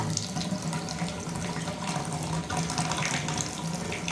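Water pours steadily from a shower valve with a plastic stem that will not shut off, a continuous hissing, splashing flow close by with no voices.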